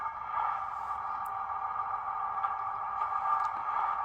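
A steady diesel engine hum from the sound decoder of a Bachmann Class 158 model diesel train, a strong midrange drone from a small speaker, constant throughout, with faint clicks and no voices.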